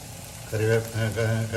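Fresh curry leaves drop into hot oil while cooking okra mappas, a steady close sizzle that swells after a quiet start and runs under a voice talking.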